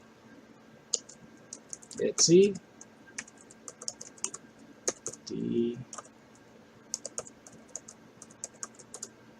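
Keystrokes on a computer keyboard while entering a terminal command during an Arch Linux install in VirtualBox, scattered light clicks with a couple of louder thumps, under a voice.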